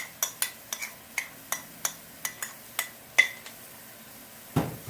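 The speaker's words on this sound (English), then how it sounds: "Stir that in and let the powders fry in the oil" A spoon clinks and scrapes against a pan as coriander, cumin, turmeric and red chili powders are stirred into oil for chicken curry, a series of about a dozen sharp, quiet metallic taps with faint sizzle between them.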